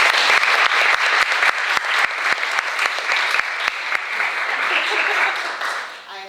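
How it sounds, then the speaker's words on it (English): An audience at a talk on biodiversity experts applauds in a full, dense round of clapping that carries steadily and then tapers off at the end. "let's give a round of applause."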